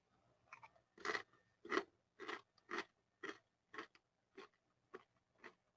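A tough, crunchy rice cracker eaten with canned squid gives about ten sharp, close crunching bites and chews at a steady pace, with near silence between them and no talking.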